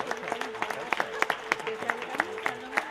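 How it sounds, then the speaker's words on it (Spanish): Scattered claps and cheers from residents on balconies during the COVID-19 lockdown in Spain, sparse distinct hand claps echoing between buildings with a faint background hum. "los balcones de todo el país se colman de aplausos."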